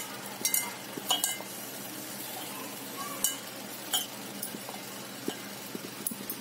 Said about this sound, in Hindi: हम मिर्ची, नमक और धनिया पाउडर, हल्दी अच्छे से मिक्स कर लेंगे।